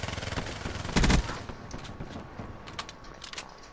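Rapid automatic gunfire from a weapon in Black Ops 3, a loud dense burst followed by scattered quieter shots and crackles across the rest of the moment.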